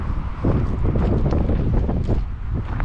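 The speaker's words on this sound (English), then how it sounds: "A little bit breezy up here on the hill" Breezy wind gusts buffet a microphone on a hilltop in Athens, a steady loud rumbling roar that fills the short stretch with no voices.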